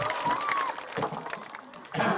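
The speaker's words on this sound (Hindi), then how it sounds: "एक बार जोरदार ताली बजाइए" Audience applause for a speaker at a crowded Jan Suraaj public gathering, a dense wash of many hands clapping that carries on steadily, dips slightly, then swells again near the end, with a voice faintly audible over the crowd.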